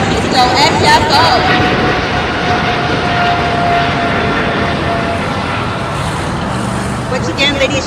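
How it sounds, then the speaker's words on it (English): An EVA Air Cargo jet departing LAX gives a loud, steady roar of jet engines that dominates throughout, with a slight fading toward the end. "This is Ava Air Cargo, flight 611, headed back to San Francisco, SFO."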